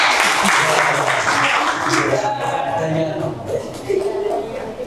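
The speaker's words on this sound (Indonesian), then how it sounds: "Dan tepuk tangan untuk Mbak Salma." A small group applauds Mbak Salma after her presentation in an academic coaching session, a loud burst of clapping fading away while voices speak over it.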